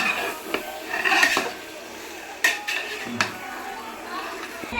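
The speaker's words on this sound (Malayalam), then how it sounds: "കറിവേപ്പില ചേർത്തതിന് ശേഷം നല്ലോണം ഇളക്കുകയാണ്." A spoon scraping and clinking against a cooking pot while curry leaves are stirred into chicken dum biryani, a few sharp metallic knocks over a softer rubbing sound, with a voice at times.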